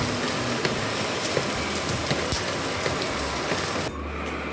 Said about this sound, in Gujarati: બહાર ફાસ્ટ વરસાદ આવવા માંડ્યો